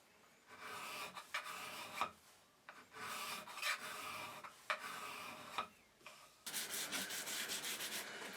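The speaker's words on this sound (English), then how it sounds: "I just smooth it off with a card scraper." A card scraper rasps over the wood of a handmade hinged box in repeated near strokes, each pass a dry scratchy scrape, with a brighter, busier burst of scraping toward the end.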